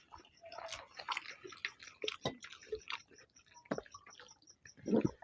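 Close, quiet chewing and mouth sounds while eating rice with omelette curry, soft irregular wet bites and smacks spread across the clip.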